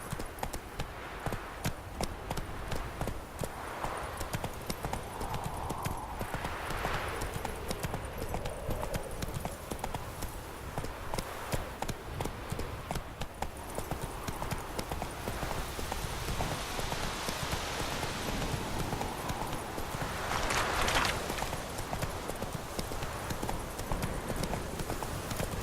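Roach, the horse in The Witcher 3: Wild Hunt, gallops with rapid, continuous hoofbeats that stay close and steady for the whole stretch. A brief whoosh of game ambience rises near the end.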